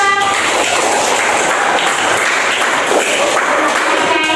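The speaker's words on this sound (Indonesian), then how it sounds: "Tepuk tangan untuk kelompok 2." Steady, loud clapping from a group filling the whole moment, a dense continuous patter of many hands.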